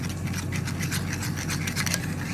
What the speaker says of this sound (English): I added 2 eggs and some almond milk already, and I'm just whisking it around here.